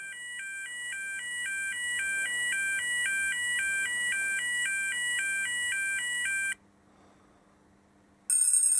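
A model railway module for a British automatic level crossing sounds a UK yodel-style alarm, a loud steady two-tone warble that repeats, cuts out briefly, then starts again.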